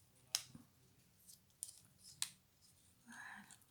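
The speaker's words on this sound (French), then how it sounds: "Je vais le couper après." Scissors snip paper for a Paper Pumpkin card kit, three crisp separate cuts spaced apart, close and fairly faint, followed by a soft rustle of paper.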